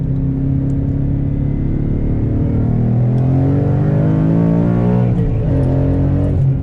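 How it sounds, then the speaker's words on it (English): Exhaust of a car fitted for a Whipple supercharger rumbles loudly as the car pulls hard in second gear on a freeway, a deep drone rising steadily in pitch while accelerating. "hear what the exhaust sounds like with a little bit of a pull"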